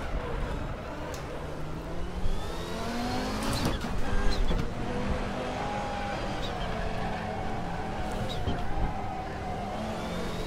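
An Audi 90 IMSA GTO race car drifting at the Nürburgring in the RaceRoom racing game: a loud, steady engine drone with shifting pitch and brief tyre and gear noises, continuous throughout.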